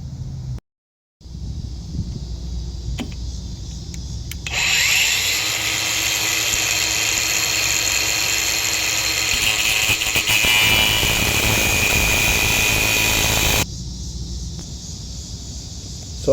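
A power tool works loose a seized rear shock stud on a 2020 Mazda CX-5, running as one loud, steady whine for about nine seconds after a few faint clicks, then cutting off abruptly.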